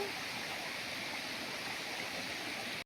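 A small waterfall running down a hillside on a trail from Khalanga toward the Risang stream in Jajarkot, a steady, even wash of falling water with no breaks and no voices.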